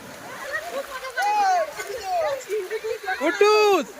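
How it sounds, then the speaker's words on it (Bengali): Water splashes and sloshes as people bathe in the sea surf at Bakkhali beach, with excited voices and children's shouts rising over the wash of waves. "চারদিকে সবাই স্নান করছে দারুণ ব্যাপার ঢেউ আসতে শুধু দেখো"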